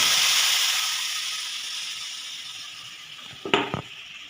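Paste of cumin, ginger, green chilli and tomato hits hot oil in a wok for a potato-cauliflower curry, giving a loud hissing sizzle that slowly fades, followed by a couple of brief clattering knocks near the end.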